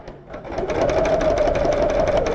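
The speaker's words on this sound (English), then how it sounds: "Now what you're seeing me do here is stitching along the edge of the cherry" Sewing machine stitching thread along the edge of a cherry appliqué on a rug: a fast, steady mechanical whirring with rapid even needle beats, close and continuous after a brief start.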